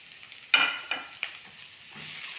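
Carrots go into a pan of sautéed potatoes and onions, and a spoon stirs them with a few sharp scraping clatters over a soft, ongoing sizzle.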